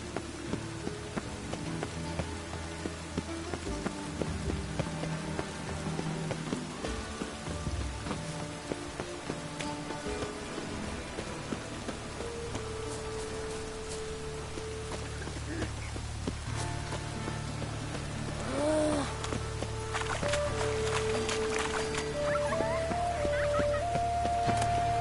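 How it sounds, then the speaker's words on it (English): Rain falls steadily in The Witcher 3 video game, a continuous soft patter with faint footsteps and game sounds mixed in, along with a few brief tonal effects toward the end. "Looks like rain."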